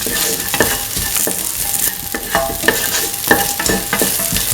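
Chili being stirred into a split chickpea semolina mixture with ginger and salt, giving repeated scraping, clicking strokes of a spoon against a pan over a steady sizzle, close and fairly loud with no talk.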